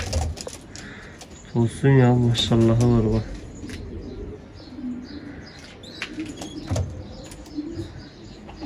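Young pigeons with rosy breasts in a coop give a short run of soft, rhythmic coos near the middle, with someone talking over them and quieter bird sounds around.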